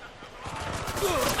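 Rapid bursts of gunfire in Ghost Recon Wildlands, a military shooter video game, crackling in dense fusillade close by, with voices shouting over the shots.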